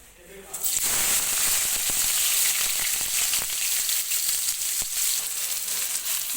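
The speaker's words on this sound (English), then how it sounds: "Now you can see oil is hot, so I am going to put onion." Chopped onion drops into hot cooking oil and bursts into a loud, steady sizzle that holds bright and continuous, with occasional pops and crackles, after a brief quiet start.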